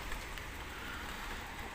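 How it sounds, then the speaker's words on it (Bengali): Small hailstones and rain falling outside on a cold day in Poland, a dense, continuous hiss of drops that holds steady throughout without any voices. "আজকে পোল্যান্ডে শিলাবৃষ্টি হচ্ছে"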